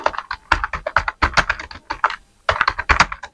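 Quick bursts of close, crisp key clicks from a computer keyboard while a name is typed into an Excel spreadsheet, with short pauses between runs of keystrokes.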